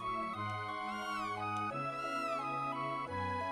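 A cat in the Chrono Trigger video game meows several times in a row, drawn-out, rising and falling tonal calls, clear and close with a short pause between them, with no talk.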